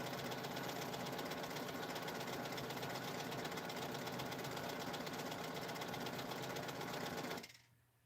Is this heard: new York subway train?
no